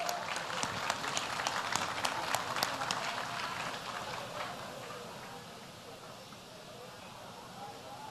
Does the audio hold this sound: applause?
yes